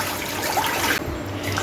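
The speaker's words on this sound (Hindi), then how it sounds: "5 गिलास पानी ऐड करूँगी।" Water poured into a karahi to boil beef for shami kabab, a steady splashing stream that runs continuously before briefly thinning.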